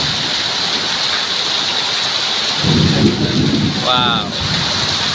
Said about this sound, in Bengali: প্রচুর পরিমাণে বৃষ্টি হচ্ছে দেখুন